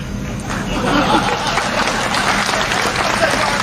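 Applause from a crowd at a political speech, a dense, moderately loud wash of clapping mixed with crowd chatter, holding steadily for a few seconds.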